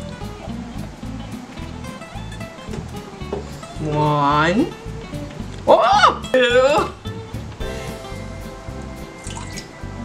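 Purified water is poured into a measuring cup in a couple of short, close bubbling splashes, set between stretches of a person talking.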